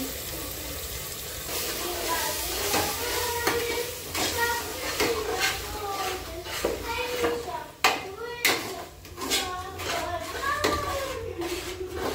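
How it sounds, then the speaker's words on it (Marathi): Chopped onion sautés in a pan, with a steady sizzle under scraping stirs of the spoon, while voices, including a child's, talk nearby. "मस्त कांदा परतला"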